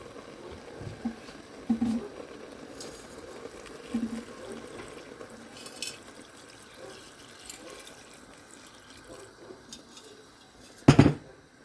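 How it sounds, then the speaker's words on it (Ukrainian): Water sloshes and runs into a 5-litre soup pot, already salted, with scattered clinks of metal, ending in a sharp clatter; fairly quiet and steady. "і заливаю водою."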